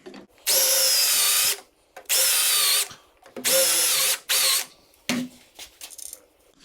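A power drill bores into wood in four sustained bursts of about a second each, the motor whine rising and falling as it starts and stops, followed by brief clatter and handling noise, close and loud with no talking.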